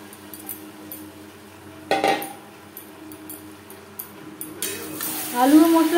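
Mashed banana blossom and chickpeas being stirred with potatoes and spices in a pan, with a few close metallic scrapes and clinks of a spoon against the cookware over low background noise.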